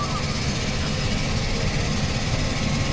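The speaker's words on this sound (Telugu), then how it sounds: "ఇంజన్ స్టార్ట్ అవుతానికి చాలా సౌండ్ అయితే వస్తున్నాయి" A seaplane engine running at the Maldives, a steady loud low roar and drone with dense vibration throughout, close and unbroken, with no voices.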